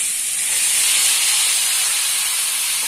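Grated carrot, three cups of it, hisses steadily in hot ghee, a close, even frying sizzle holding at a constant level throughout with no voices.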